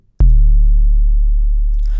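One 808 trap kick synthesized in Kick 2 hits after a brief pause, a punchy click giving way to a long, deep sub-bass tail that rings out to the end.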